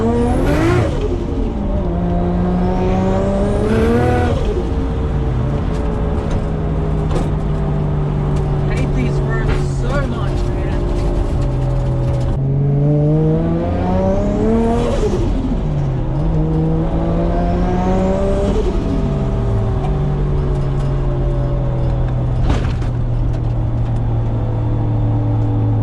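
Modified Nissan R33 Skyline on lowered BC Racing coilovers driving rough, bumpy town roads, its engine revving up and dropping through several gear changes, loud and close from inside, with a person talking over it.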